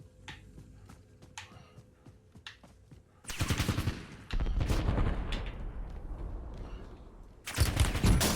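Automatic gunfire in the battle-royale video game Call of Duty Warzone, with a few sparse shots at first, then loud sustained bursts of rapid fire close by, pausing briefly and resuming.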